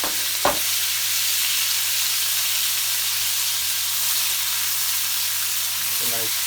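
King prawns frying in a hot pan for fried rice, giving a loud, continuous close-up sizzle with a couple of brief knocks as they are stirred.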